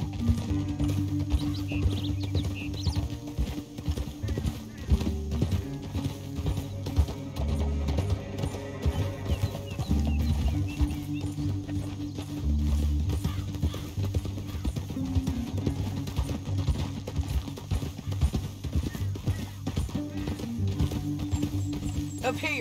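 Horses gallop in Red Dead Redemption 2, their hooves clip-clopping in a steady, fast rhythm that runs unbroken throughout, layered over a dense bed of game music and ambience.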